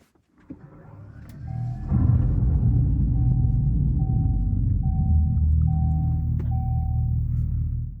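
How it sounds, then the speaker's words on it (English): A deep, steady low rumble from a Dodge Charger EV's simulated engine start swells up and holds, with a faint repeating electronic chime on top, heard from inside the car. "when you start it, it makes a thunderous noise even inside the car"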